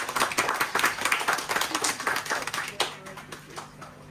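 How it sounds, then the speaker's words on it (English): Wedding guests at a marriage ceremony applaud the arriving wedding party, a dense, steady burst of many hands clapping that tapers off toward the end. "Let's welcome the wedding party with a round of applause."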